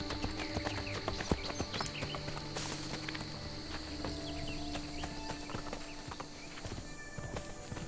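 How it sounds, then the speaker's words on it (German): Steady clip-clop of horse hooves walking in Assassin's Creed Brotherhood, close and continuous under a dense layer of game ambience and music. "Hey, da ist ein Pferd."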